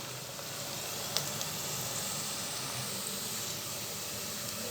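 Onions sautéing in a pan for mutton biryani give off a steady, even sizzle with a broad hiss, with no voices over it and one small tap early on.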